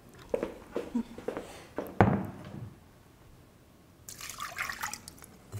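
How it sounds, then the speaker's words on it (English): Rice being washed by hand in water for clay pot rice sloshes and splashes in irregular bursts, with one sharper knock. A softer run of trickling water follows near the end. "So I'm just washing the rice."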